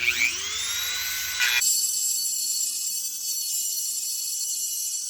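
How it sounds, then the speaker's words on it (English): A Dremel with a fine attachment smooths the edges of a Benelli M4 shotgun's loading port. A high-pitched whine spins down after about a second and a half, leaving a faint high hum. No one speaks. "So I switched to a more fine Dremel attachment here, and it's really smoothing out the edges here."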